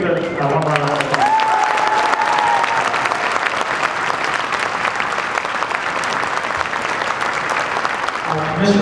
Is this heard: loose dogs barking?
no